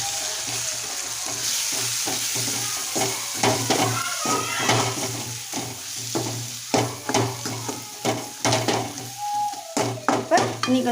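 Chicken curry with chicken curry powder and spice powder is stirred in a pan, giving a continuous sizzle punctuated by rhythmic scraping strokes that grow sharper and more regular toward the end.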